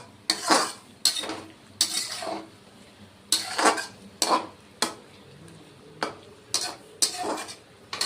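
Drumstick vegetable pieces being stirred and fried with mustard paste in a pan, with repeated scraping, clattering strokes of a utensil against the metal in uneven bursts, close and fairly loud over a faint background.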